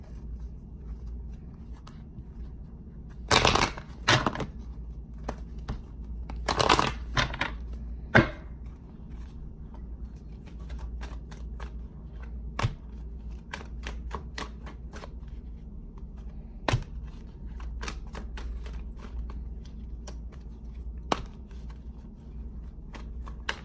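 A deck of tarot cards being shuffled by hand, with several louder riffling bursts early on, then scattered soft taps and card slaps over a quiet room background.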